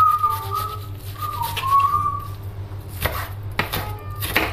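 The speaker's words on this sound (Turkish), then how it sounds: "Soğanlarımızı minik minik doğruyoruz." Onions are chopped into small pieces with a knife on a cutting board in a home kitchen, a run of quick, crisp knife taps with a loud whistling tone running through the first half and no speech.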